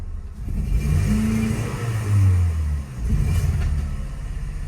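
An Opel Vectra C with a fault code P1191 cranks and starts, then revs up in a low rumbling rise and settles back to a steady idle, close by and alone.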